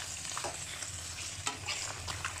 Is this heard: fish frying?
yes